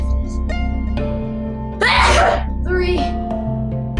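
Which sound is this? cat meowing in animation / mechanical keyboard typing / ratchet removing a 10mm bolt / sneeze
sneeze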